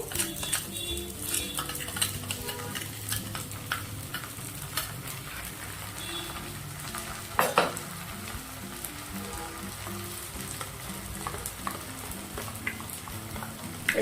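Ginger, garlic and green chilli paste fries with browned onions in a pan, a soft steady sizzle under frequent clinks and scrapes of a spoon stirring against the metal.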